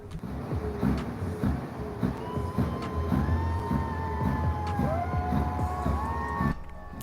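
A truck's engine brake at the Ottawa trucker protest, heard as a rising, droning tonal growl. It sits over steady traffic and crowd rumble with rhythmic clatter, moderately close and continuous.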